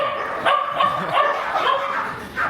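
Several dogs in a Seoul dog café give repeated short barks and yips close by, a steady run of yapping throughout.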